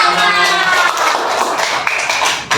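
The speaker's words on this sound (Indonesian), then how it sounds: "Oke, tepuk tangan." Students in a classroom lesson clap together for a short burst, a dense ragged patter of hands that fades slightly toward the end.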